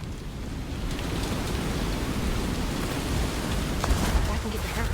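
Heavy storm rain hisses steadily in the video game South of Midnight, with low rumbling thunder underneath and a few brief sharper cracks, continuous and fairly close.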